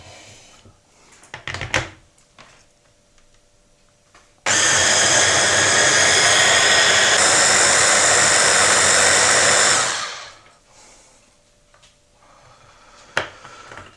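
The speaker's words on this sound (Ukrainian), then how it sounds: "І це все одразу перебиваємо" A kitchen blender whirs loudly and steadily for about five seconds, pureeing cucumber and vegetables for gazpacho, then winds down; scattered clunks and knocks come before and after.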